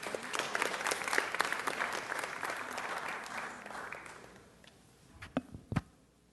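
Applause from the audience in a city council chamber, a crowd clapping steadily before it thins and fades out, ending in a few last isolated claps.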